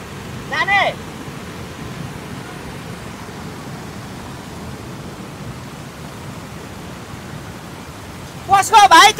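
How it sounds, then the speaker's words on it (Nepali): A swollen, flooding stream rushes steadily in the distance as a low, constant roar, while short bursts of voices break in at the start and again at the end. "होइन देखिँदैन यति ठुलो खोला बढेको छ"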